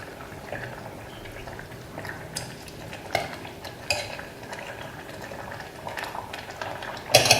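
Nyonya asam tamarind fish curry simmers gently in a pot, a soft steady bubbling with occasional clinks and scrapes of a utensil stirring, and a sharper clatter near the end.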